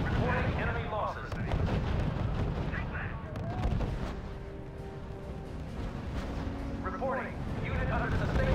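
Artillery and gunfire in the real-time strategy game R.U.S.E., a dense continuous rumble of distant shelling and bursts throughout, with radio-style voices speaking over the battle noise.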